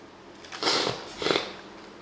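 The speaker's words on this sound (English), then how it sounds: "Excuse me for sniffing." A person gives two quick, close sniffs through the nose, soft and breathy, with a short gap between them and quiet around them.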